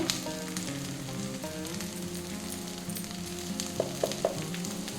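Water spinach fries in a pan over a medium gas flame, giving a steady close sizzle with a few sharper crackles and pops near the end.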